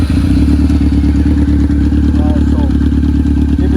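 A Honda CBR F4i 600cc sport motorcycle engine runs loud and close, held steady with low throttle and a faint clatter, while people talk nearby.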